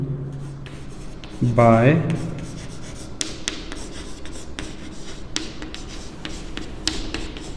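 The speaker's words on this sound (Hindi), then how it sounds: "मुझे मिड पॉइंट को ही ढूंढना है, तो मैं लिखता हूँ" A pen scratches out a midpoint formula on paper during a coordinate geometry lesson, giving short rasping strokes and light taps, with someone speaking in Hindi over the writing.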